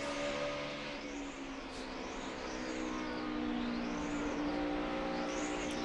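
Inside a NASCAR Sprint Cup stock car racing at Dover in 2010, the engine roars loud and constant, its pitch rising and falling in sweeping waves through the laps.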